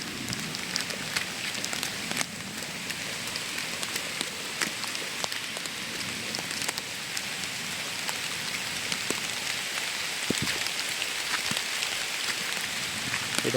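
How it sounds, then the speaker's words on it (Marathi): Heavy rain pours steadily through a mango orchard, a dense even hiss of drops striking leaves and ground, with scattered louder drips and patters, close and continuous throughout. "हा कसला पाऊस पडतोय."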